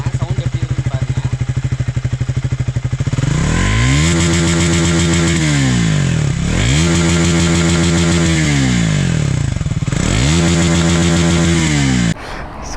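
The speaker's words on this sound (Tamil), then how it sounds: "பைக்கை த்ராட்லர் பண்ணுறேன், சவுண்ட் எப்படி இருக்குன்னு பாருங்கள்." A Triumph Thruxton 400 motorcycle idles with a rapid, even exhaust putter, then is revved three times in long rising and falling pulls, loud and close, before dropping back at the end.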